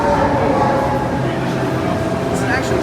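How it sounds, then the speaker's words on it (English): Steam train at a King's Cross platform in a Harry Potter game, a steady low rumble and hiss filling the space, with people talking over it. "It's an actual train."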